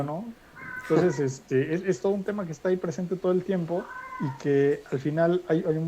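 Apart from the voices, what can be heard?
cat meowing in the background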